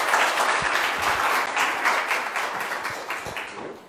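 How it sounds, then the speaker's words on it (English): Audience applause at a Futurepreneurs 2020 problem-solving event, a steady dense wash of many hands clapping close by, holding for a few seconds before slowly fading out. "welcome, applause to Audronė"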